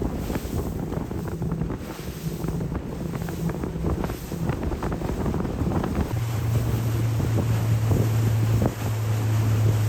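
A motorboat drones steadily over the water, with wind buffeting the microphone; the engine note becomes a stronger, steady hum in the second half.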